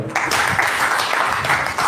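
A burst of loud, dense applause from an audience at a literary award ceremony, sustained evenly for a couple of seconds.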